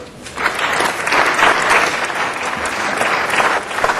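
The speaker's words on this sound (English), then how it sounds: "please give a round of applause for Jerry Edwards." A room full of people at a Los Angeles city council meeting bursts into steady, sustained applause, dense clapping that swells slightly and holds at a full level throughout without any speech.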